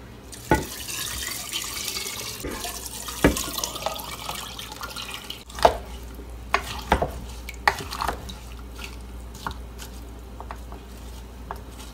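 Tap water running into a container to make about two liters of water for apple cider vinegar, a steady wash of flow and splashing broken by a few sharper drips and clinks, close and alone.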